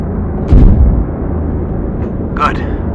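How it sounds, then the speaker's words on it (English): An artillery round from an aircraft gunship in the Project Gunship video game fires with a loud low boom, followed about two seconds later by a sharper distant impact burst, over a steady background rumble. "fire a shot, and adjust the offset until your impacts are on target"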